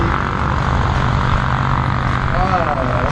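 Steady engine drone of a small propeller light aircraft landing close by with all flaps extended, a constant broad roar with a faint whine rising near the end, with a voice talking over it.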